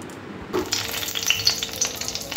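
Bay leaves dropped into hot oil in a kadai, a sudden burst of frying sizzle after a brief quiet start, then a steady crackle with small pops, close and clear.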